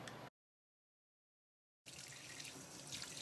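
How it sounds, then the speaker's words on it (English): Cold tap water runs while raw chicken is washed, a steady hissing faucet stream heard close; it cuts out briefly to silence, then returns louder and continues. "So you're going to wash your chicken off with cold water."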